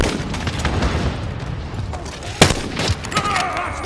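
Video game gunfire, with rapid volleys of shots crackling over a busy background and one sharp, loud crack standing out partway through, followed by more scattered bursts.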